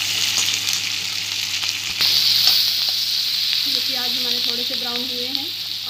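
Onions sizzling steadily in a hot pan while cooking bhindi do pyaza, a loud continuous fry close up, with a brief tonal sound near the end.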